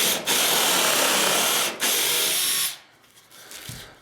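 A Ridgid 18V cordless drill bores a pilot hole through a 2x6 in two loud, close bursts of whining motor and biting wood, with a brief dip between them, then falls quiet with light handling noise.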